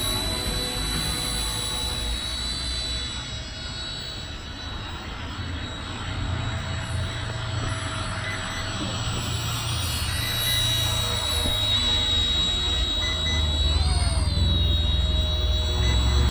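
An ERA C127 RC helicopter in low-battery mode hums with a steady, high motor whine, with thin electronic tones running over it and a brief wavering blip near the end.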